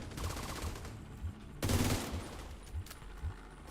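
Rapid-fire gunfire from a high rate-of-fire gun in a live video game event, quick repeated low thumps punctuated by a louder burst of shots, fairly quiet overall in the mix.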